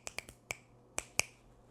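Six sharp finger snaps, close and fairly quiet, arrive in an uneven rhythm: three quick ones, a single one, then two more spaced apart, each a crisp isolated crack.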